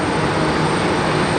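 A Shuttle America airliner's jet engines roar at LaGuardia airport during a rainstorm, a loud, broad, continuous rushing noise with no voices.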